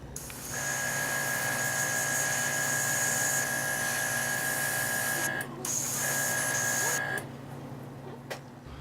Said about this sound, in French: on va commencer avec un gris médium qu'on va appliquer au airbrush à un angle de 45 degrés tout le tour de la figurine